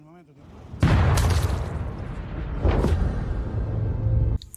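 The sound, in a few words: gunshot in a film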